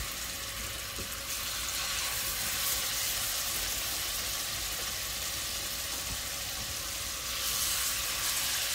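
Chicken pieces sizzle steadily in olive oil in a hot skillet over medium-high heat, a dense continuous frying hiss that swells slightly near the end, with no talking.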